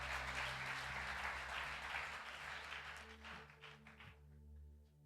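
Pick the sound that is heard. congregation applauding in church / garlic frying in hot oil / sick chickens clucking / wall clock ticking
congregation applauding in church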